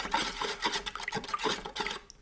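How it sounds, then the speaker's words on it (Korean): A spoon stirs a sauce of sugar, vinegar and salt in a bowl, making quick rhythmic scraping and rubbing strokes close up, several brisk passes in a row before stopping. "잘 저어줍니다."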